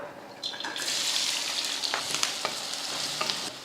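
A steady, close hiss of onion, green chillies and curry leaves frying in hot oil, with occasional crackles and pops and some light stirring.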